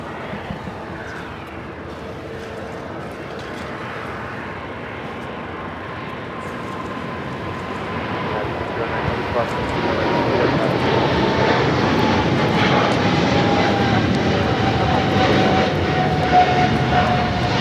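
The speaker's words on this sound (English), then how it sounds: "This is Singapore Airlines Flight 11 taking off to Tokyo, Narita on a 777-300ER." A Singapore Airlines Boeing 777-300ER takes off from runway 25 Right at LAX, its engine roar building from a distant whine to a loud, sustained broadband thunder with a steady tonal hum.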